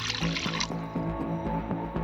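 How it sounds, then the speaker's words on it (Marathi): Water pouring into a kadai set on a wood-fired chulha for cooking a wild vegetable dish, a close, steady splashing stream that gives way to lighter dripping and trickling. "पहिले यात टाकूया आपण थोडं पाणी गरम करून घ्यायचं आहे आपल्या भाजीसाठी"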